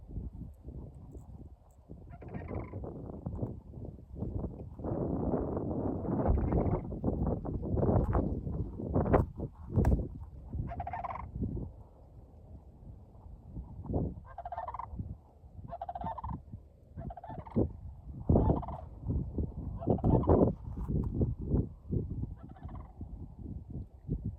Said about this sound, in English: Here's the cranes.